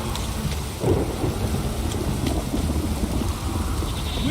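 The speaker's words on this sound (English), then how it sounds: "This downpour's a bastard." A short stretch of driving rain in Witcher 3 with a thunder crack near the start, the rain hissing steadily and loudly on its own.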